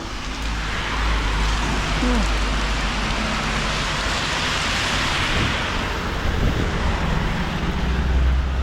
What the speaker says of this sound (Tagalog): sobrang lakas po ng ulan